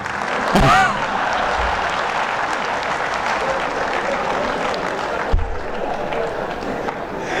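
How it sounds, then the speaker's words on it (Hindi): Loud, sustained audience applause at a large gathering led by Swami Ramdev, dense crowd clapping with a few brief thumps and murmurs mixed in. "जरा एक बार इनके लिए इतनी ताली बजाओ कि इनके 2-2 हो जाएं"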